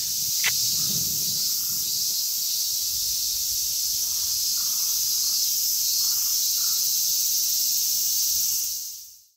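A dense, steady high-pitched buzzing drone of cicadas in Japan, constant and fairly loud throughout, fading out at the very end.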